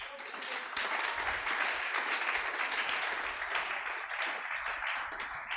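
A church congregation at a Pentecost service breaks into loud, sustained applause and clapping, a dense and steady roar of many hands that holds its level throughout.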